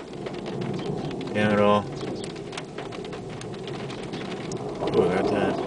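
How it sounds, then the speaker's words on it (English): Steady rain falls through a thunderstorm as a broad, continuous hiss, with a few brief voices speaking over it and a short tonal chirp partway through. "it's starting to rain again."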